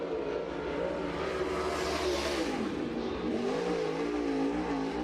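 Super late model race car at Cherokee Speedway during time trials, its engine roaring steadily with rising and falling pitch as it laps, loud and continuous with track ambience.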